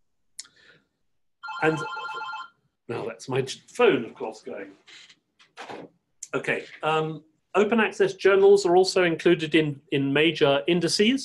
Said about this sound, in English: And now that's my phone, of course, going.